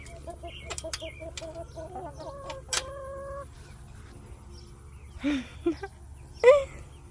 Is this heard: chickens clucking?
yes